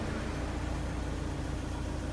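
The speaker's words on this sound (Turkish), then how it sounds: "Rölantisi falan bu şekilde." Fiat Palio idling while reportedly running on only two cylinders, with an oxygen sensor fault: a steady, close, even engine hum and rumble with no break or rev change and no talk.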